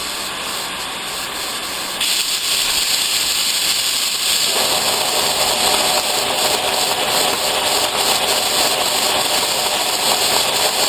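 A milling machine cutting splines with coolant running makes a loud, steady hissing spray and motor drone that swells partway through and then holds constant.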